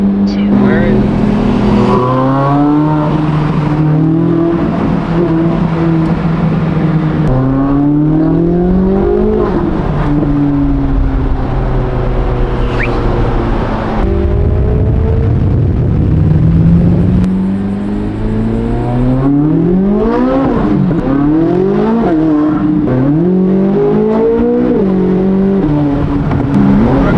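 A yellow performance car's engine revs repeatedly toward 7,000 rpm, rising and falling in loud sweeping pitch climbs through gear changes, with people talking over it inside the car.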